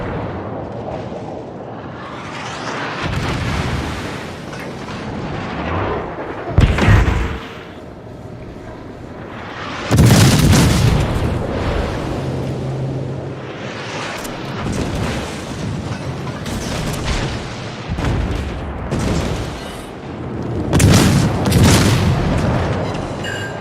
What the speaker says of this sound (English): Battleship just took a pot shot at me.